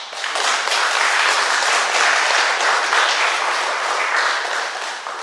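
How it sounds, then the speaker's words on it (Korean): Warm welcoming applause from a church congregation, a steady wash of clapping that rises quickly and holds for a few seconds. "우리 잠깐 환영의 박수 부탁드립니다"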